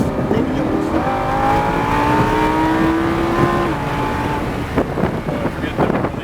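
A Lamborghini Huracan accelerating on a racetrack, its engine note rising steadily in pitch then easing off, loud and continuous with wind buffeting, while an instructor talks over it.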